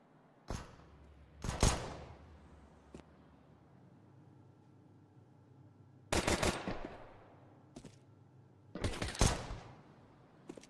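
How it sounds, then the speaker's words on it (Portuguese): Bursts of automatic rifle fire during a Counter-Strike match on the Nuke map, four short volleys separated by quiet gaps, sharp and fairly near. "Uns tiros para cá, uns tiros para lá."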